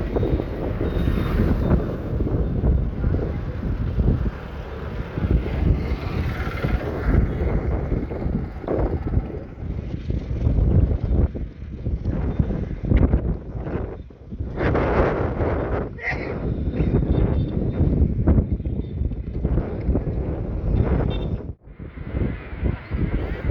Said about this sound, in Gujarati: ફૂલ ઠંડો પવન છે